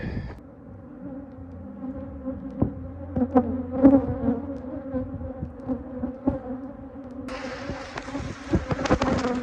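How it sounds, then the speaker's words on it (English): A steady, dense buzz of many honey bees fills the air, close and loud, with individual bees droning past. "I don't know how well you're gonna hear me after because of the bees"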